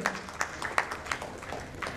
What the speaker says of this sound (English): with all that applause and the challenge clap